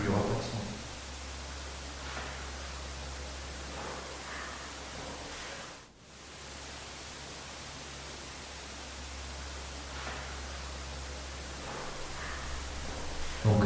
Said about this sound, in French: je vais juste garder un bruit blanc, simplement un bruit blanc